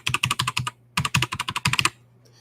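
Keychron K4 mechanical keyboard with lubed switches: two quick bursts of rapid, muffled key clicks, about eight strokes each, close and fairly quiet, separated by a short pause, with no talking.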